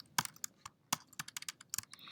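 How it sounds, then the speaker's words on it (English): Rapid, uneven keystrokes on a computer keyboard, close and crisp, a dozen or so clicks in quick bursts with no talking. "I'm going to start by simply typing the signature that's provided"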